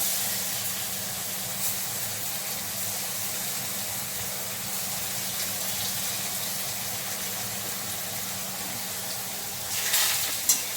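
Cauliflower frying in hot oil with fried leaves, mustard and chili for a vegetarian dosa filling: a steady, even sizzle and hiss runs throughout at moderate level, swelling slightly near the end, with no talk.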